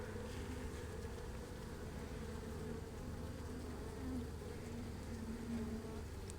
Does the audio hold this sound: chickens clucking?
no